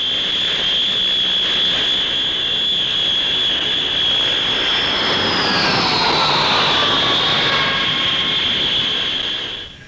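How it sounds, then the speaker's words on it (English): Handley Page Herald turboprop airliner with Dart engines flying past at the Farnborough air show, a loud steady high-pitched turbine whine with a broad engine roar that shifts in pitch as the aircraft passes. "the Handley Page Herald with well-tried Dart engines making a spectacular picture"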